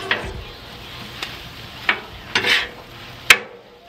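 A metal scraper scrapes and chops food on a cold rolled steel Blackstone griddle during a breakfast cook of sausage, eggs, hash browns and cheese, giving a few sharp scraping clicks over a soft, steady sizzle.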